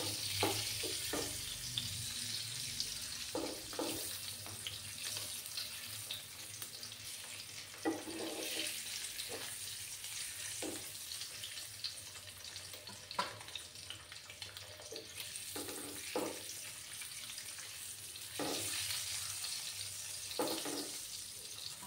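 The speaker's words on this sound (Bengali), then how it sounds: "ডিমগুলোকে কিন্তু আমি বেশি কড়া করে ভাজবো না, কারণ কি কড়া করে ভাজলে ডিমগুলো একটু শক্ত হয়ে যায়" Eggs fry gently in a pan for an egg do-peyaja, producing a soft continuous sizzle with scattered clinks and scrapes of a utensil spread across the stretch, fairly quiet and without speech.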